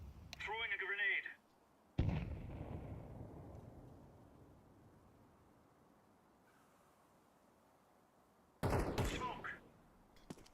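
Call of Duty Black Ops 6 gameplay brings a heavy grenade blast with a rumbling, decaying tail, then a later burst of loud gunfire or another explosion, separated by a quiet stretch; a voice talks briefly at the start.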